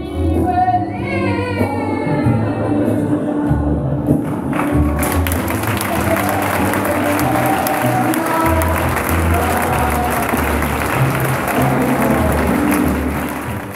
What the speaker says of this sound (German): am Ende dann den stürmischen Applaus des begeisterten Publikums